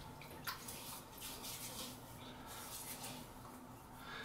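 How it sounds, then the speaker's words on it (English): Water is splashed and dripped onto a face at a sink before a shave with a restored Thomas Burgess razor, a close, continuous wet sloshing with a few brighter splashes throughout. "I'm going to wet my face"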